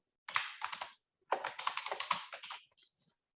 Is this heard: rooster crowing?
no